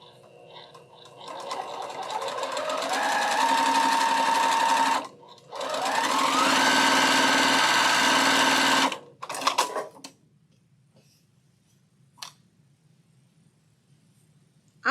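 A Brother sewing machine stitching a pink quilt block, a loud steady mechanical whirr running in two long bursts with a brief pause between, then a few short stops and quiet.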